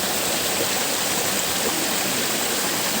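A forest waterfall and stream roar with a steady, loud, broadband rush of falling water, constant and unbroken, with no voices.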